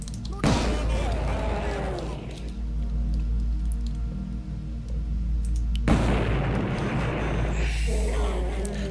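An explosion goes off in the video game Blood: a sudden loud boom with a rumbling tail, then a second heavy blast a few seconds later, while a voice talks over the action.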